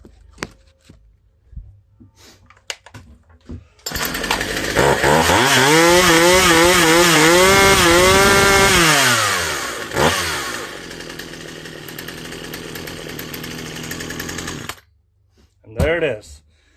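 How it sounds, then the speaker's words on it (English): A Poulan chainsaw with its fuel lines newly swapped at the carburetor starts, revs up and down in loud close bursts, then idles roughly for several seconds before cutting out, with someone talking briefly before and after. "I flipped them around, started up, runs just fine"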